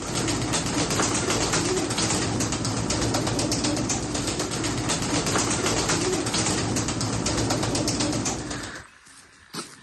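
Pigeons cooing in a flock of pet birds in Taraz, a continuous crowded murmur of coos and flutters close up for most of the stretch before fading quickly near the end.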